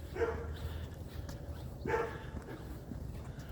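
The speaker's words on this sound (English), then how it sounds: "it's a really big day for dogs out today. They're barking all over the place." Two distant dog barks about two seconds apart over low background rumble.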